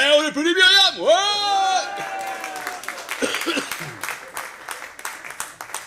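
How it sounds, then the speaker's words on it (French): Audience applause and cheering in a café at a live show, starting under a loud sung or shouted voice and continuing as scattered clapping with crowd chatter. "Allez, on applaudit Myriam."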